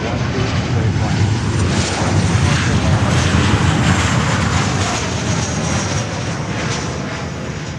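An Air Canada airliner landing on runway 12 at Miami airport makes a loud, continuous broadband jet roar that stays sustained and close throughout and eases off slightly near the end.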